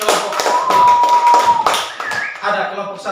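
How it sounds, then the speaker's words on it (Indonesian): Schoolchildren in a fifth grade classroom clap their hands together for a presenting group, a brief burst of close, loud, overlapping claps, with a sustained tone and some voices mixed in. "mari kita tepuk tangan dulu untuk kelompok"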